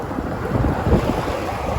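Steady wind roars and buffets the microphone during a bicycle ride uphill on a concrete road into a headwind, a low continuous rumble with no voices.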